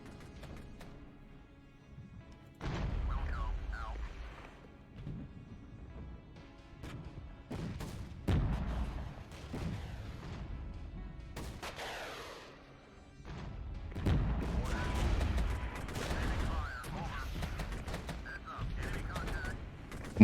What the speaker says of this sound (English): Number of missiles coming in is just too much.